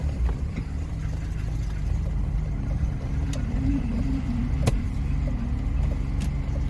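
A project BMW engine labouring at very low revs and close to stalling, giving a steady, rough, low rumble throughout with a couple of faint clicks and no clear surge.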